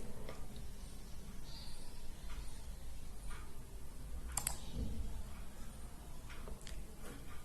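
Sparse, faint computer mouse clicks, a few isolated taps over a quiet room hum, close to the microphone with no voices.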